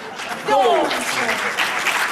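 Theatre audience applauding during a stage comedy, a broad wash of clapping that swells after a moment, with a voice or sung note briefly heard over the hands.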